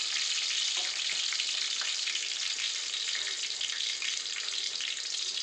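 Chillies and curry leaves fry in a pan with a loud, steady, continuous sizzle and crackle, close by and with no talk over it.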